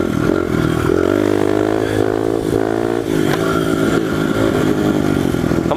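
A pit bike engine revs hard during a high-gear wheelie, a loud, sustained buzzing drone whose pitch holds and shifts slightly as the throttle is worked, close and alone without talk.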